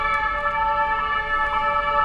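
Emergency vehicle sirens wail steadily and loudly throughout a busy street scene, with several tones overlapping and no speech.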